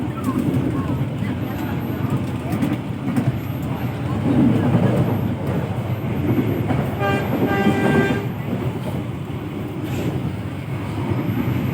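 A train rumbles and clatters steadily nearby, with a brief horn-like tone midway and people talking faintly in the background.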